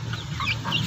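Rhode Island Red chicks clucking softly while feeding on the ground, a steady stream of small chirps and clucks that stay fairly close and continuous, with no talking.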